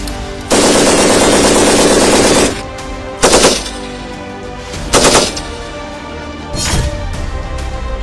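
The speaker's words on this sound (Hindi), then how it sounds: "MMG से गोलीबारी" A long sustained burst of rapid medium machine-gun fire during an Indian military exercise, followed by three shorter bursts spaced apart, loud and close with no talking.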